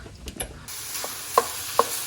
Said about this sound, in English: I can hear the meat sizzling from here.